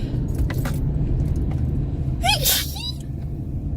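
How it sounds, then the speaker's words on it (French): A single sharp sneeze inside a moving car, preceded by a quick inhale, heard close over the steady low rumble of the vehicle. "je vais éternuer"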